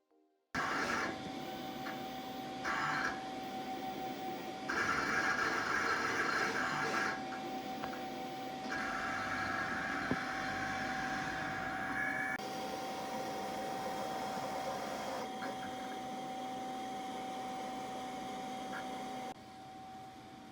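A printer-cutter runs continuously for about twenty seconds while printing and cutting a sticker contour line, a steady mechanical whir with a faint tonal whine and shifting motor passes, no talking.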